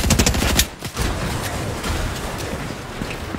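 Rapid automatic gunfire in the video game Apex Legends, a loud dense burst of shots with a brief gap near the start, then continuing steady firing and impacts throughout.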